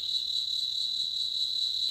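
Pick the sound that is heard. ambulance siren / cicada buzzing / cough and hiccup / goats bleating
cicada buzzing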